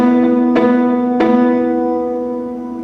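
Muted piano chords are struck in a rhythmic pattern with the pedal lifted, three close, clear attacks, each leaving a ringing sympathetic resonance from the lower strings that lingers and slowly fades.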